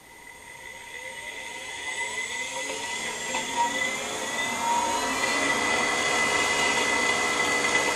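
An AC motor driven by a motor controller at full throttle spins with a smooth, steady high-pitched whine that climbs slightly and holds, with layered tonal hums and no speech.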